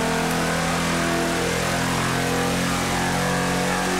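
Car engine revving loudly and steadily inside a tunnel in the GTA V video game, a sustained low drone with harmonics that stays close and continuous throughout, with no talk.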